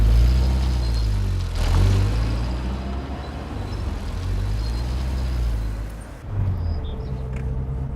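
A Peugeot 504 on the road, heard from inside the cabin as a steady, loud low engine drone with road rumble. The engine pitch swells and dips slightly as the car drives on.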